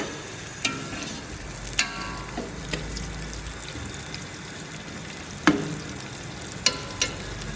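Onions fry in a pan, giving a steady close sizzle throughout, with occasional sharp clinks and scrapes from stirring.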